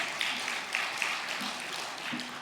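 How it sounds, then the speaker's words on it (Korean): A church congregation at a Wednesday prayer service claps together, a moderately quiet, even patter of many hands with a few sharper individual claps and faint murmuring beneath. "박수 한번 하겠습니다."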